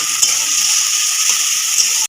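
Chopped onion frying in a pan over a high gas flame, a loud, steady sizzle that runs unbroken until it cuts off at the end.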